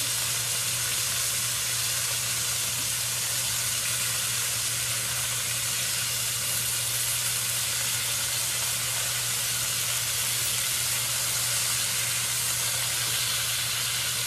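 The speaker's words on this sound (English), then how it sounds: "I can put my artichokes in the bottom of the pan. They're going to get seared, but at the same time, because there is liquid coming and steam creating" Chicken thighs and artichokes sear and steam in a pan, giving a loud, steady sizzling hiss with a constant low hum underneath and no talk.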